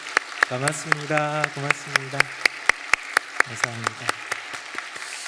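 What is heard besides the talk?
applause for the trumpet player and the Wednesday choir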